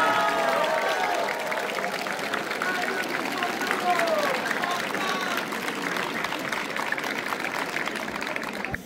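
Steady, sustained applause from a crowd of students, parents and teachers at a Bulgarian school graduation send-off for the class of 2025, a dense continuous clatter lasting the whole stretch with a murmur of voices beneath.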